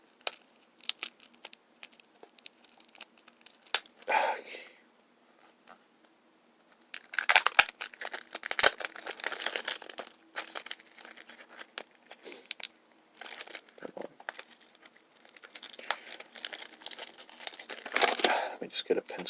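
Plastic-coated playing card deck packaging being opened: bursts of crinkling and tearing wrapper, with sharp snipping-like crackles, coming in close clusters separated by quiet pauses.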